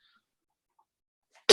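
Near-silence gives way to a single sharp, loud cough from a person at the very end.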